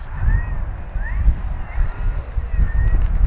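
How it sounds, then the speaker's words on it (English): Strong gusty wind buffets the microphone outdoors during an RC model airplane flight, an E-flite Carbon-Z T-28, with a low rumbling roar joined by faint whistling tones. "Folks, it's just too windy"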